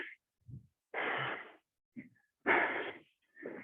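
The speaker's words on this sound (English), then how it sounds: "Now I am breathing." Heavy, rhythmic breathing from a person doing a fast step-and-arm-swing workout: loud, close breathy huffs in uneven bursts with short pauses between them, and no talking.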